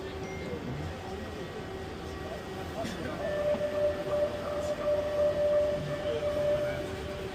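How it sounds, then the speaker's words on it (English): A Barcelona metro train pulls into a station, a steady rumble with a rising squealing whine from the wheels and brakes, fairly faint and distant. "Here we are arriving at the last metro stop for the New Year's celebration."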